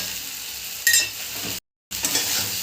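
Ground spices, including Kashmiri and red chilli powder, coriander and cumin, fry in oil in a pan with a close sizzle, lifting sharply as they are stirred, then pausing briefly before sizzling again.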